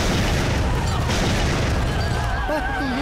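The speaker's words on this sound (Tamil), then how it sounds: "வெடிச்சிருச்சு." A bomb hidden in a sweet box goes off in a Tamil comedy film scene, a loud, dense rumbling boom that fills the moment before thinning into a lingering ringing tone.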